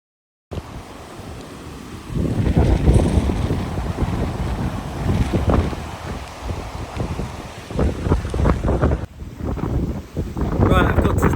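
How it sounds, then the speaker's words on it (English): Strong gusts of wind at a mountain pass in the Mickledon Valley area batter the microphone with a loud, roaring rumble that surges and eases again and again amid heavy rain squalls. "It's been absolutely throwing it down with rain, and it's gusting."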